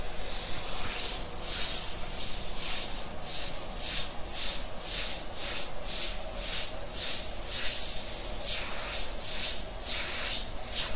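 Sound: Thayer and Chandler Omni 3000 airbrush spraying

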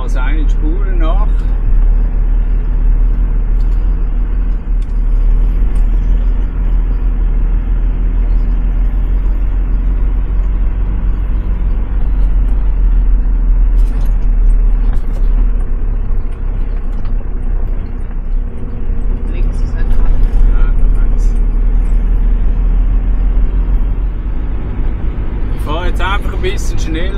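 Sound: off-road car driving with lowered tyre pressure and differential locks

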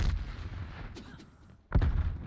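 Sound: grenade explosion in a video game

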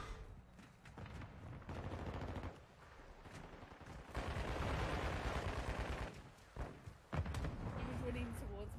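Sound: gunshots from a video game shooter

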